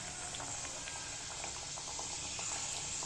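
Khari pastry frying on low heat in a wok of hot oil, a faint, steady bubbling hiss with soft scattered pops throughout, no talking.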